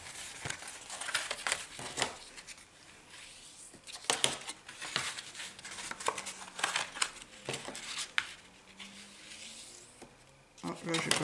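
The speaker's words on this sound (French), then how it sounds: "On marque tous les plis." A paper card for a three-diamond craft is folded and its creases pressed firmly, giving repeated close, crisp rubbing and crinkling strokes, with a soft voice in the background.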